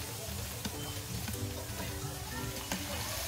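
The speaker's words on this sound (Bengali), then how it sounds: "একটা কড়াইতে আমি তেল গরম করে নিলাম এবং এর মধ্যে ধীরে ধীরে চিকেনগুলো একে একে দিয়ে দিচ্ছি ভেজে নেওয়ার জন্য।" Chicken pieces frying in hot oil in a wok make a soft, continuous sizzle and crackle, fairly quiet and steady, with occasional faint clicks and no speech over it.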